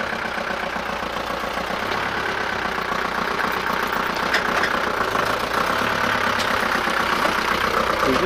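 Vehicle engines idle in a street at Station Hill, Bury St Edmunds, producing a steady low rumbling drone with faint mechanical knocking that holds constant and fairly loud throughout, with no one speaking.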